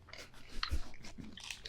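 Someone bites into a small chocolate bar with pistachio, a short crisp crunch followed by close chewing and mouth noises, with no talking.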